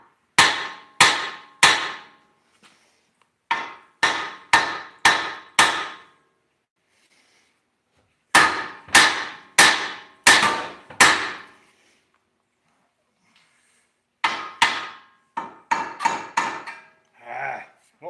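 A hammer striking a tie rod on a 2002-2020 Chevy Express van, sharp metallic blows in quick bursts of three to five, loud and close, separated by short pauses.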